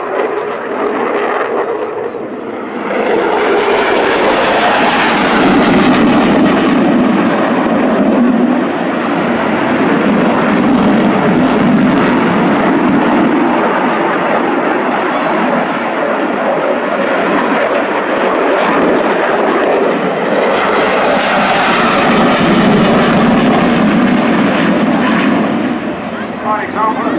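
A Eurofighter Typhoon FGR4 jet roars overhead at the 2013 Waddington airshow, loud and continuous throughout, swelling twice as it passes.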